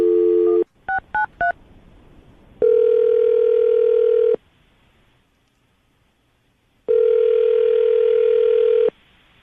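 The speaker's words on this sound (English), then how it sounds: "I'm going to dial the phone number, see if we can get her on the phone" A telephone handset plays a short run of touch-tone dialing beeps, then a steady dial-type tone in two long blasts with silence between. The tones are clean and close.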